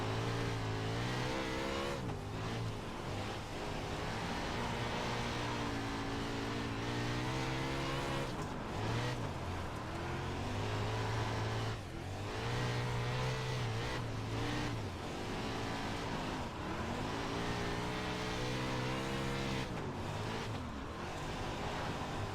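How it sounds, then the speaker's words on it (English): A winged dirt sprint car races in iRacing, its engine a loud, continuous high-revving roar with pitch rising and falling through lifts and corner entries, steady throughout. "It's taking a little bit to get used to driving the Wing Sprint car again."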